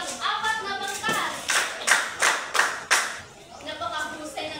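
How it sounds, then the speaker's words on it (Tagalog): A class of children clapping in a schoolroom for the fourth group after its presentation, several distinct claps in a quick burst amid light chatter, fairly close. "bigyan natin ng 5 palakpak ang pang-apat na pangkat"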